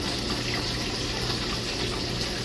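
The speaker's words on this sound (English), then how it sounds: "I'm gonna get you some cold water," Cold water poured from a tap into thin batter for country fried chicken, a steady, loud, continuous gushing rush without pause or talk.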